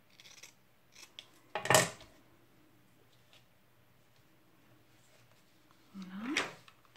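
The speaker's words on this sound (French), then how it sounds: "je vais couper un petit peu l'angle ici" Scissors snipping the corner off a paper tag, two distinct close cuts a few seconds apart with faint handling rustle between.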